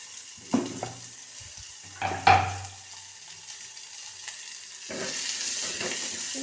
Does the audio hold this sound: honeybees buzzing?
no